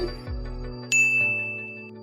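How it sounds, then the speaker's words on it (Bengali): A single bright electronic doorbell chime rings out after a low hum, its tone ringing and slowly fading. "বাসার কলিং বেল বাজতে"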